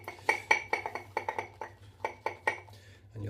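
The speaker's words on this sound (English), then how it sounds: "you'll have to excuse the noise from this bolt. It does make a lot of noise." A metal bolt clinks repeatedly against a shaving lather bowl in quick, irregular taps, bright and fairly close, over a low steady hum.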